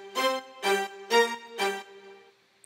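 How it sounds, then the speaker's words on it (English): Native Instruments Session Strings sample library playing disco chords for a disco house remix: four short, bright sustained string stabs in an even rhythm, followed by a softer held chord that fades out. "Okay, so here I used contact session strings, again from Native Instruments, to play the chords."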